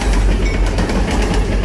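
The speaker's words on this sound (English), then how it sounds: "Freight train." A freight train rumbles past close by, loud and heavy, with a dense roar and faint rhythmic clatter from the wagons.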